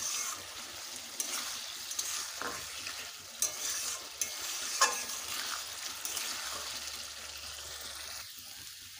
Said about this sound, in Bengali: কুমড়োগুলো ভালোভাবে কষে নেব।